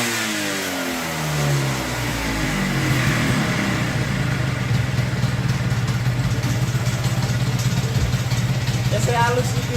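A Vespa scooter with its original exhaust runs close by, a steady throbbing idle with a low pulsing drone that rises briefly at the start, loud and continuous with no talk over it.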